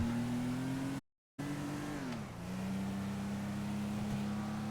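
A loud car engine revs and drones in GTA Online, with the pitch holding steady, dipping briefly, then settling into a sustained roar after a short cut in the sound.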